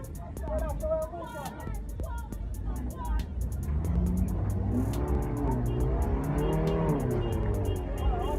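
A car reverses down a one-way street in Jamaica, its engine droning and revving steadily throughout while people talk loudly over it.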